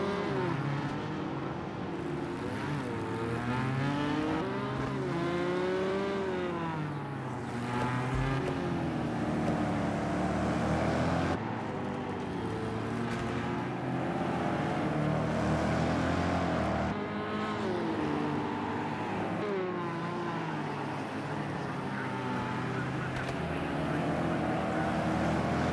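BMW race cars in a racing video game lap the Long Beach street circuit, engines whining and rising and falling through gear shifts, several cars close together and loud throughout with no talk.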